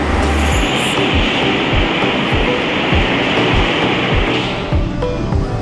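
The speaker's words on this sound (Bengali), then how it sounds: "আর এই যে সামনে ট্রেনটা যাচ্ছে ওখানে যে গরম একদম মেল্ট হওয়া যে তরল পদার্থ যে স্টিল হয় বা লোহা সেটা যাচ্ছে" A freight train carrying molten steel rolls through the Bhilai steel plant in Chhattisgarh. Its wheels clack in a steady rhythm over a loud, continuous rumble, with no voices.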